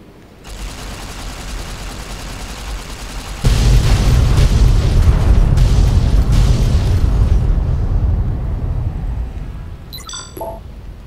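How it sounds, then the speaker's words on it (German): An atomic explosion in the video game Fallout New Vegas: a rushing roar swells into a heavy booming rumble that slowly fades, loud and alone, with a few small synthetic blips at the end. "So, auf genügend Abstand für eine atomare Explosion gehen."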